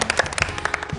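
Brief applause for dancers at a dance class session, a short patter of several hands clapping close by, loose and uneven.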